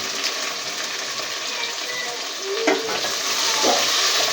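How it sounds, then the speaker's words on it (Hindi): Onions dropped into hot oil for aloo keema, a loud, close, steady hiss of frying, with a brief stirring clink partway through and no talking. "तो प्याज हमने डाल दी है"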